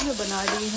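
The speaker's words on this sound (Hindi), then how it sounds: "अभी मैं बना रही हूँ अपने लिए मैगी" Maggi noodles cook in a pan, giving a brief soft sizzle with a stirring scrape.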